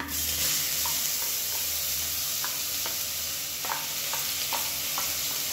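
Ground onion, pepper and cumin sauté in a pan with a constant close hiss of frying, broken by scattered clicks and scrapes of stirring, and no voices.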